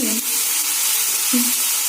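Fiddlehead fern greens frying in an iron wok with turmeric, a soft steady sizzle broken by two brief louder hisses at the start and near the end.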